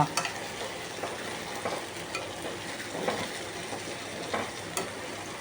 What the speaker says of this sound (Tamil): நல்லா அந்த புளியும் அது கூடயே வந்து நல்லா வதங்குது பாருங்களா